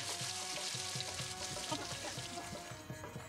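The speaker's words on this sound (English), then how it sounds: "I tried frying the entire soya chap in 2 batches" Soya chaap pieces frying in oil, a soft steady bubbling sizzle with a faint rhythmic ticking underneath, fairly quiet and close, no voices.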